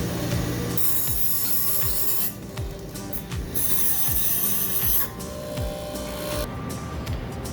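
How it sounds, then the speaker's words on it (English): A bench grinding wheel rasps against the ends and sides of metal bands used for pedestal table leg supports, taking off burrs and sharp edges. It makes a steady, close grinding with repeated scraping strokes and ticks throughout. "I'll soften the ends, both sides and both ends, on the grinding wheel to remove all the burrs and sharp edges"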